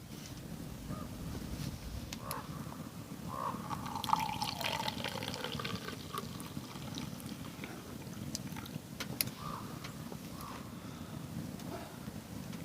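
Coffee poured into a cup at a campsite, a faint, steady trickle of liquid with a few light clinks and drips, quiet and close.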